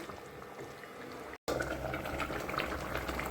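Catla fish curry simmers in a pot, a continuous soft bubbling boil heard close by, with a brief cut of silence partway through and a slightly fuller burble afterward.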